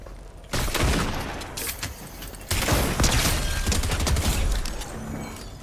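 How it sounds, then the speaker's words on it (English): Loud bursts of a charged shotgun firing in a video game, with rapid clattering shots and mechanical reload sounds crowding the scene up close, no speech. "There's the power of the charged shotgun right there."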